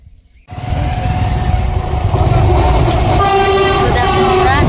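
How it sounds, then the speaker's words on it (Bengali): A heavy freight train rumbles past close by near a toll gate, starting abruptly and staying loud with a steady roar and clanking wheels. "মনে হচ্ছে মালগাড়ি যাই হোক ট্রেন চলে গেল"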